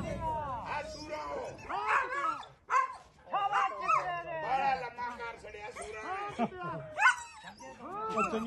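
Desi greyhounds bark, yip and whimper at an open dog race in Pakistan, close and repeated in uneven bursts while people shout and talk over them throughout.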